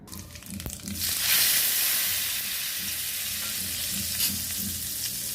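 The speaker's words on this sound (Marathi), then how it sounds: "जिरं मुरी आणि हिंग ह्याची फोडणी मी दिली ह्याला" Cumin and asafoetida tempering hits hot oil and flares into a sharp, loud sizzle that settles into a steady hiss, poured over a semolina and potato vada batter, close and uninterrupted.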